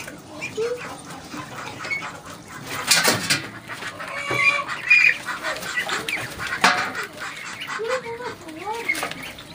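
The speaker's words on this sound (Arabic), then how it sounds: "دي بطة سكوفي" Muscovy ducks kept at home call in short, scattered bursts of hoarse, breathy sounds, close by, mixed with other barnyard fowl noises and occasional sharp knocks.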